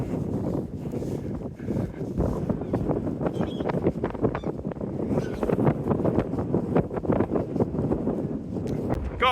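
A strong, gusty wind roars across open fields during a walk, buffeting the microphone in heavy, irregular bursts that never let up.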